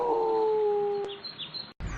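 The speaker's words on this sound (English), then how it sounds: "And 1 dog." A dog howls in one long, wavering, sustained tone that holds steady, then breaks off abruptly, followed by a brief burst of rough background noise.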